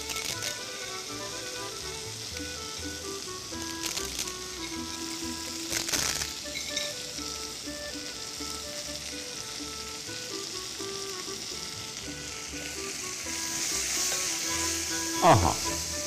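Raisins fry in a pan with a continuous crackling sizzle, punctuated by a few sharp stirring clatters and a louder knock near the end, over soft background music.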